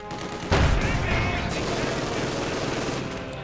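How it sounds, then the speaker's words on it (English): Gunfire in the WWII strategy game Company of Heroes 2: a sudden burst of dense, rattling automatic fire breaks out and keeps going as a sustained clatter, with a commentator talking over it. "So Morton also firing away"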